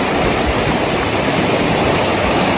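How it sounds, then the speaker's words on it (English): Water cascading down a mountainside waterfall on a Great Divide Trail hike, a steady, loud, broadband roar close by and unbroken for the whole stretch with no voices. "where all that water's coming down, I have to get through there"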